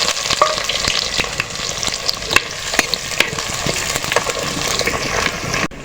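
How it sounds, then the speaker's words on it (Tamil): Onions fry in hot oil with spluttered mustard seeds for a Chettinad fish curry, a loud, steady sizzle broken by repeated scraping stirs of a ladle in the pan. "கடுகு பொரிஞ்சிட்டு மக்கா வெங்காயத்தை போட்டுக்கணும்"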